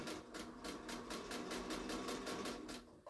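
A sewing machine stitches raw-edge appliqué in a steady run, its rapid, rhythmic needle pulses close and moderately quiet, ending abruptly after about three seconds.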